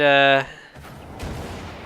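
An explosion in the video game Wolfenstein 2 ends a sustained tonal note with a burst of broad, rumbling noise that then fills the rest of the moment at steady loudness.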